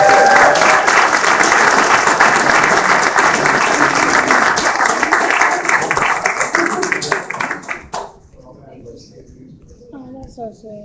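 A crowd applauds the Vols with loud, sustained clapping that rolls on for several seconds, then thins out and fades, giving way to voices.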